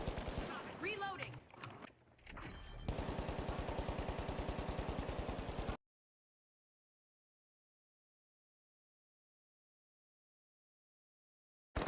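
FCAR rifle fire in the shooter game The Finals: a loud, rapid automatic burst of evenly spaced shots runs for about three seconds after a jumble of game effects, then cuts to silence.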